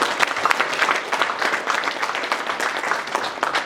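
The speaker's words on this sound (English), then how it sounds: "Let's give those speakers another round of applause." A seated conference audience applauds the speakers, a dense, steady round of many hands clapping at close range with no talk over it.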